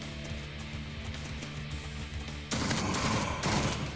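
Gunfire in the sci-fi roguelike Jupiter Hell: a rapid run of shots over a humming game background, then a much louder, denser burst of automatic fire for the last second and a half, no talking.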